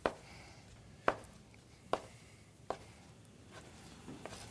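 A knife cuts sweet potato gnocchi dough into pieces on a board, four crisp evenly spaced chops followed by softer faint taps, close and with no talk.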